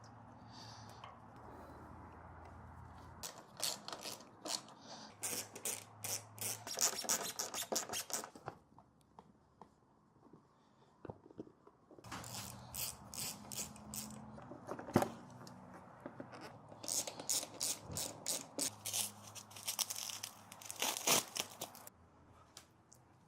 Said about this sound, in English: We're going to go ahead and reinstall the fuel tank, fuel lines, fairing bolts, and side panels.